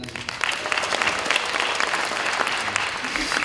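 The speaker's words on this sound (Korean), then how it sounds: "큰 박수로 환영해 주시기 바랍니다" A seated audience at a Korean district political event applauds as a council chairman is welcomed, a dense, even wash of clapping that holds steady throughout.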